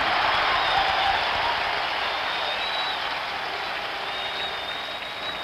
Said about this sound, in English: And this crowd, a crowd that was spent, has come to life.